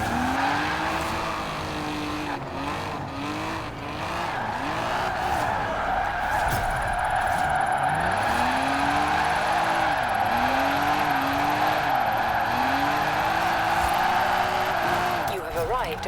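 A 1979 Triumph TR7 roadster with an all-wheel-drive drift tune in a racing video game, engine revs rising and falling in repeated swoops while tires skid and squeal continuously, loud and up close.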